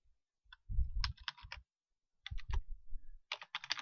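Keyboard shortcut keys typed on a computer keyboard while formatting fonts in a word processor, two quick bursts of several close, crisp clicks separated by a pause, with no talk.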